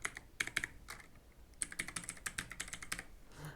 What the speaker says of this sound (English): Now type your current password here,